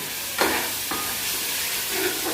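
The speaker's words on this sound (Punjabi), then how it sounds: "ਪਾਣੀ ਪਾ ਦਿੰਦੇ" Water poured into a pan of sizzling taro (arbi) curry sets off a loud, close hiss with sharp bursts of spitting, over a steady frying crackle.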